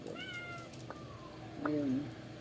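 A house cat meows several times at close range, short rising and falling cries in a quiet kitchen, with faint household noise between calls.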